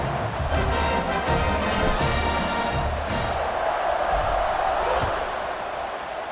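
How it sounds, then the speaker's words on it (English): A stadium crowd at a college football game between Arizona State and Nebraska roars continuously at kickoff, a dense, steady wall of cheering close up, with no talking. "They're set to kick it off, and this crowd now ready to get behind them."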